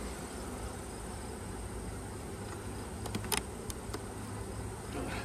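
Bees buzzing inside a super hive, a dense, continuous hum heard up close with a few brief clicks partway through and no speech.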